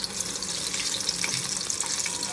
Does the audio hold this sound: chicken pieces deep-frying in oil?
yes